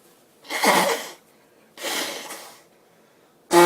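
Two loud bursts of sneezing and nasal blowing separated by short pauses, close up, then a third sharp burst begins at the end.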